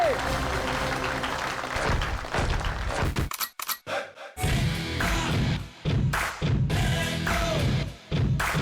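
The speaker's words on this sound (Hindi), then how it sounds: "जोरदार तालियां हो जाए" A studio audience claps loudly for a performer on a televised talent show, a dense, sustained wash of applause with a few brief dips and some voices mixed in.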